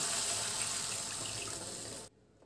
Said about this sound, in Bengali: এখন 1 কাপ জল দিয়ে দিলাম।